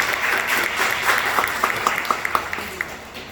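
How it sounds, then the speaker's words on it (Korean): An audience at a political youth committee launch event claps for a lawmaker, a dense round of applause with distinct individual claps standing out as it tapers off near the end. "긴 시간 답변해 주신 저희 의원님께 박수 한 번만 다시 부탁드립니다"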